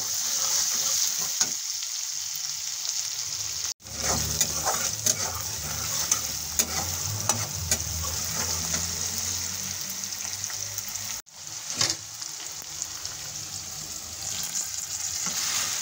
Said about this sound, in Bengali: পেঁয়াজ কুচিগুলো হালকা ভাজা হয়ে গেছে